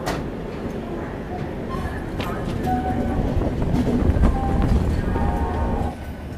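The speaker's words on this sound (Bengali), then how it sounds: "ট্রেন একদম সঠিক সময়ে ছেড়ে দিয়েছে।" The Howrah–NJP 12041 Shatabdi Express pulls out of Howrah station with a steady, fairly loud rumble and rattle of coaches that swells slightly before easing off near the end.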